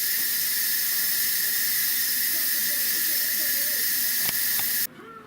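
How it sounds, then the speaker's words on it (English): Instant Pot pressure cooker venting steam in a loud, steady, high hiss for several seconds before cutting off abruptly, with faint kitchen sounds underneath. "use the end of the spoon and release the pressure"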